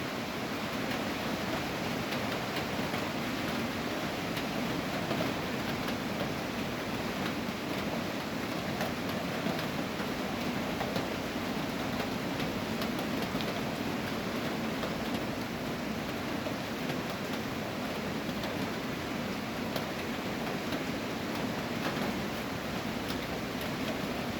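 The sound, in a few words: rain falling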